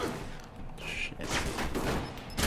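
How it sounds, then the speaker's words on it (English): Gunfire from the video game Alpha Protocol, a short burst of muffled shots and thuds at moderate level, mixed with game noise. "I'm shooting real bullets now, too"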